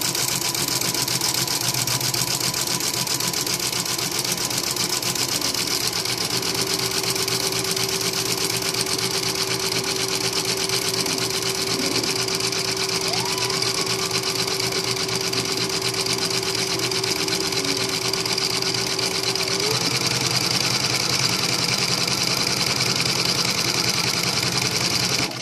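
A sewing machine runs continuously at a steady, even speed, zigzag stitching a ruffle onto a cloth diaper, a close, constant mechanical whir with a faint tonal hum partway through.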